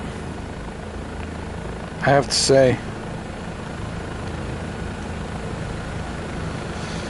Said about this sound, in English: This was an amazing helicopter flight.